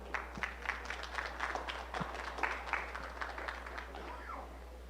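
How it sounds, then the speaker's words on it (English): Crowd at a 4-H provincial beef cattle show in an arena gives a scattered round of applause, moderately loud with irregular claps and a steady low hum beneath. "So let's give them a round of applause."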